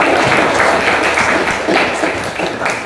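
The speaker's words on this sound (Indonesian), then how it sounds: "Oke, kasih aplaus untuk teman kita." A class claps for a classmate during an Islamic studies lesson, dense, loud, close applause filling the room for a few seconds with a faint voice underneath.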